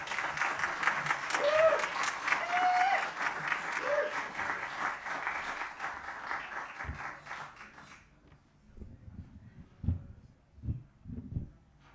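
Open mic audience applauding a performer, a warm, loud round of clapping that rises and sustains for several seconds, with cheers over it, then fades into scattered voices and quiet.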